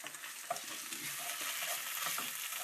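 A sloppy joe mixture with ketchup sizzling steadily in a pan while a spoon stirs it, with soft scraping clicks over a continuous hiss, no talking.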